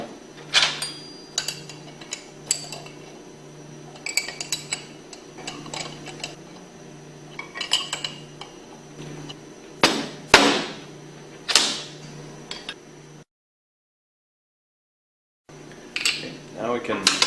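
Bolts on a Hypro centrifugal pump flange being tightened with a 1/2-inch wrench, producing sharp metallic clicks and clanks in irregular bursts, close by, with a brief silent gap near the end.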